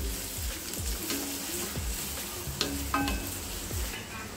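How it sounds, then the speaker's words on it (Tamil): Onions with green chilli, chilli flakes and asafoetida sauté in a frying pan, giving a steady close sizzle broken by regular rhythmic scrapes and knocks of the stirring spoon against the pan, with no speech. "வெங்காயம்லாம் நல்லா வதங்கிருச்சு."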